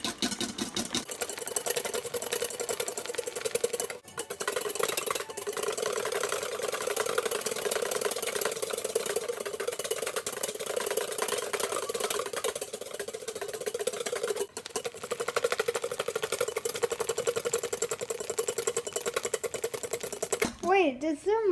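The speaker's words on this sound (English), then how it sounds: "You're whipping air into it." An electric mixer whips eggnog until it turns shiny and foamy, giving a steady mid-pitched motorized whir that runs continuously at moderate loudness, with people talking over it at times.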